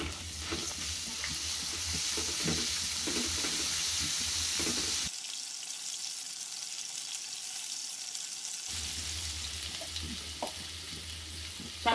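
Ginger paste, green chili paste and chili powder sizzle in a pan while being stirred, a close continuous frying hiss with scraping strokes, briefly cutting to near silence midway before resuming.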